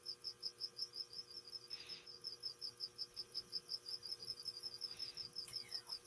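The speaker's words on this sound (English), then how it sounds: "But Val, I'm pretty sure she has more than one cricket in her little area there." Several crickets in a small indoor enclosure chirp in a fast, steady train of short, high pulses that runs without a break, faint and alone with no voices.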